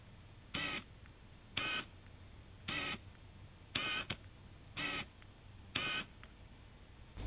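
A Canon EF-S 18-135mm lens without USM drives its autofocus motor in six short whirring bursts, each about a fifth of a second, spaced roughly a second apart, close and clear against a quiet background.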